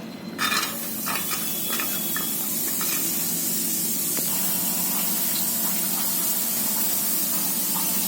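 Onion and curry leaves drop into hot oil in a pressure cooker and set off a loud, steady sizzle that starts abruptly and keeps going, with a few light clinks near the start.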